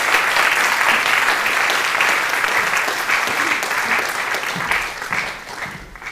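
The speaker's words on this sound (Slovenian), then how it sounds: "z enim velikim aplavzom" A hall audience at a national adult learning week opening ceremony in Ajdovščina claps in a long, even burst of applause, dense and continuous, tapering slightly toward the end.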